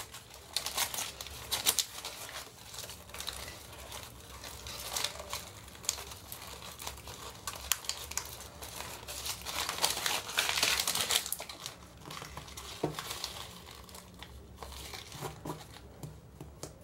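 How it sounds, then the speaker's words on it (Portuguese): Stabilizer paper being torn and peeled off the back of machine embroidery made on an industrial zigzag machine: soft, irregular crinkling and ripping close by, rising into a denser tear partway through, quiet overall. "Vou tirar o papel."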